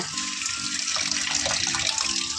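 Tap water runs steadily and close by while leafy greens are rinsed under it, a continuous splashing stream with no talk.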